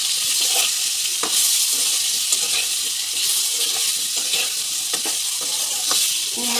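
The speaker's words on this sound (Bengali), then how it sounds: "এবার আমি ভালো করে নেড়ে চেড়ে" A spoon stirring turmeric, cumin and ginger powder in hot oil in a frying pan for a spinach curry, with continuous loud sizzling and repeated scraping strokes against the pan, close up.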